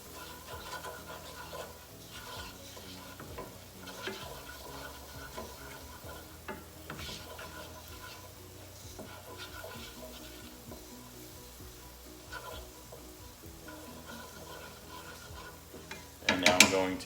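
Onions seasoned with pepper and salt sizzle in a pan while a utensil stirs them, a steady soft frying hiss broken by scraping strokes, with a louder clatter near the end.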